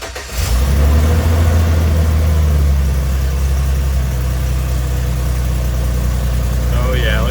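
A 2008 Chevy Express van with a weak, overheated battery cranks briefly and fires up, then runs loud and steady at idle close by.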